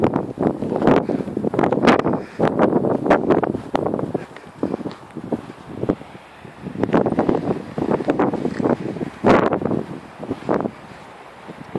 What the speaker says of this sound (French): Oh le vent, ça va, c'est bon, t'as fini.